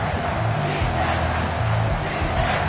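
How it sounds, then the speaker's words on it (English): Home-stadium crowd noise in College Football 25, a loud, steady roar of cheering that runs unbroken through the moment with no pause. "Man, this crowd really affecting the football game."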